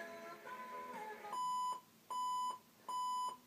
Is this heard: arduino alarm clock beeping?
yes